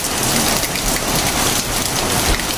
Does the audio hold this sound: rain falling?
yes